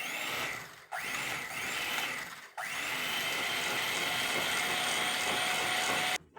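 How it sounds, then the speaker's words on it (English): A new electric beater whirs steadily while mixing Mixx cement slurry for a melamine countertop coating, pausing twice briefly before running on in a sustained whine that cuts off near the end. "And I'm using a new beater I bought."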